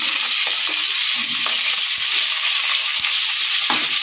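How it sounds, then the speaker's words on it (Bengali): Vegetables and potato sizzle in hot oil in a pan for a Bengali spinach dish, a steady loud hiss throughout with occasional stirring scrapes and clicks, no voices. "আগে সবজিটা শুধু একটু ভেজে নেবো, আলুটা দিয়ে সব এক এক করে দেবো, দিয়ে ভেজে নেবো।"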